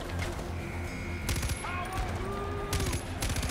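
Gunfire in the video game Far Cry 4, two loud, sharp bursts of shots about a second apart over a dense, rumbling game background.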